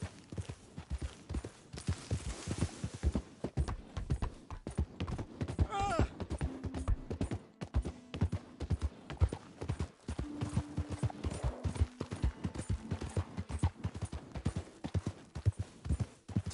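Horse hooves clip-clopping in a steady brisk rhythm, close and distinct, continuing throughout with a brief whinny-like tone partway and faint voices in the background.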